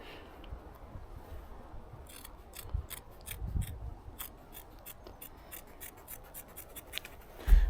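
Black Front rescue scissors snip through old, dried fleece with a doubled elastic cuff, giving a quick run of sharp, crisp cuts that speeds into a dense rhythmic series, close and fairly quiet, with no talking.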